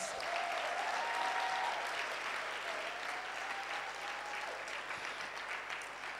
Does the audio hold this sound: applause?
yes